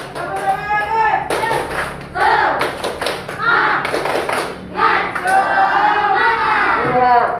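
An elementary classroom of sixth graders does the rhythmic 'tepuk semangat' spirit clap, bursts of loud group clapping in patterned beats with children's voices chanting along, close and lively throughout.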